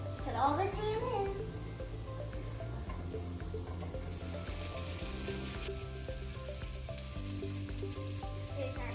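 Diced ham goes into a pan with onions and garlic and fries with a steady, close sizzle throughout, a voice briefly audible at the start over the frying.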